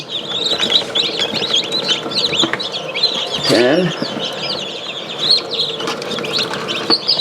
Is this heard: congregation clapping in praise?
no